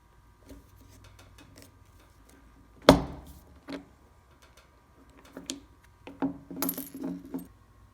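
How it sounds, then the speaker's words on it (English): A button-covering press pushes a button top down through upholstery fabric or vinyl, giving one sharp, loud clack followed by scattered lighter clicks and knocks from the press in a workshop. "We're now going to push the top of the button down through the fabric to wrap the fabric or"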